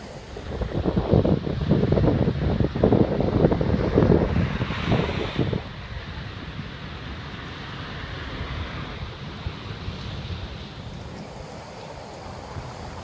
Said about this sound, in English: waves are really choppy